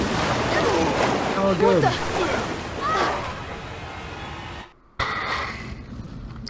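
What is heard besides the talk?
rushing water in Resident Evil 6 video game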